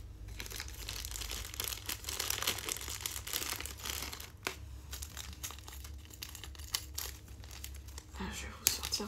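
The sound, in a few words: plastic sachet crinkling as a sewing ring is taken out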